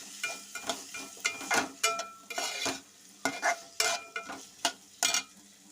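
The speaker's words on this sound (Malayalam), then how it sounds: "നന്നായി ഒന്ന് ഇളക്കി കൊടുക്കാം" Jackfruit seed and amaranth stir-fry stirred in a pan, a quick run of close scraping and clattering strokes of the spoon over a soft sizzle.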